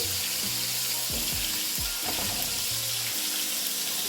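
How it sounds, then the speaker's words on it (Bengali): A tablespoon of garlic paste fries in oil, giving a dense, constant sizzle close to the listener with a low hum beneath and no voices. "রসুন বাটাতে একটু বেশি করে দেব এক টেবিল স্পুন এটাকে তেলের মধ্যে প্রথমে ভুলে নিচ্ছি"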